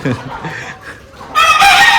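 Hens cluck and murmur close by, then a rooster bursts into a loud, drawn-out crow that fills the last half of the clip.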